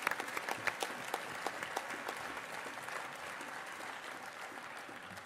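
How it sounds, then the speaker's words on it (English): A congress audience gives a round of applause: dense, steady clapping with crisp hand slaps at the start, settling into an even, continuous roar of applause that holds throughout. "Yeah, that deserves a round of applause."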